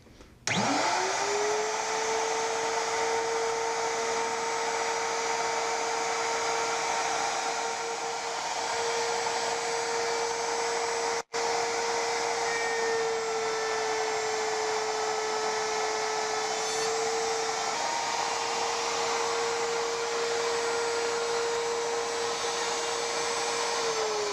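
A power tool cuts wood for a trunk desk, its motor whining loudly and steadily at a constant pitch for the whole stretch, with one brief dropout midway and no talk.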